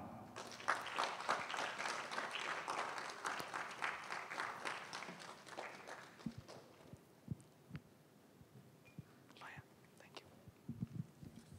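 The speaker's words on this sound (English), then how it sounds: "join me with a round of applause" Audience applause welcoming a speaker at a talk, a fairly faint wash of clapping for the first six seconds that fades out, followed by a few scattered knocks and shuffles.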